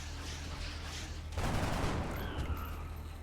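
Gunfire in the game XCOM Enemy Unknown bursts in as a loud rumbling volley after a quieter stretch, then trails off into a lingering low rumble.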